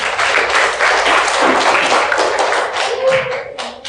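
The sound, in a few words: class clapping hands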